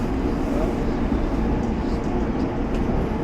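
Inside a moving train during a commuter ride home, a steady low rumbling roar of the carriage and wheels on the track runs continuously.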